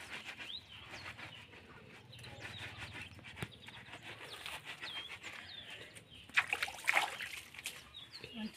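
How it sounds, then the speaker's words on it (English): Water splashes and trickles during an outdoor shower in an African village, with soft intermittent pouring and dribbling close by, birds calling in the background, and a louder burst of splashing near the end. "when we are showering, that's when we wash our sandals."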